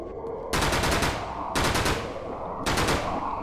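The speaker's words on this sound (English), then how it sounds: "I'm going to also equip the Uzi, so I don't waste the shotgun." Uzi gunfire in the survival horror video game Remorse, with three loud, sustained bursts of rapid automatic fire separated by brief gaps and no talk.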